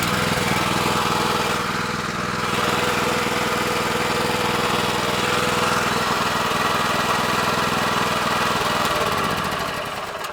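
The engine of a Split-Fire 3490 log splitter runs steadily after starting, a loud, close, continuous mid-pitched drone with throttle raised, fading slightly near the end.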